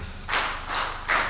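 Audience at the East African Civil Society Summit claps together in slow unison, three broad, evenly spaced claps roughly every half second, moderately loud in a large room.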